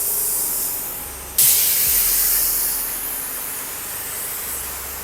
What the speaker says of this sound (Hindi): आप हमें दिखाएं कैसे स्प्रे गन से काम करता है?